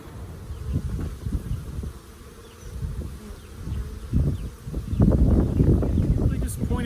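Honeybees buzz around an open hive during a beehive inspection, a close, wavering drone of many insects that grows busier toward the end, with a person talking over it.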